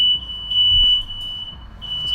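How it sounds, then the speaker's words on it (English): A household smoke alarm, set off by rice left on the stove, sounds a continuous shrill electronic tone with brief dips, close and alone over faint room noise. "That's my fire alarm."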